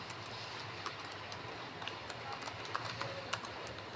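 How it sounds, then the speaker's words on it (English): A name being typed on a computer keyboard: faint, scattered key clicks in an uneven rhythm over a steady background hiss, with a few slightly sharper taps toward the end. "I'm going to type in my name,"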